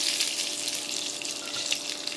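Curry leaves, fenugreek seeds and a broken dried chilli frying in hot oil, giving a steady, dense sizzle that holds for the whole stretch.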